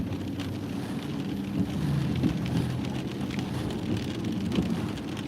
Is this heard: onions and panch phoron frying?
no